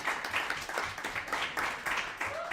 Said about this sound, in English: I think we should clap it up for coaches.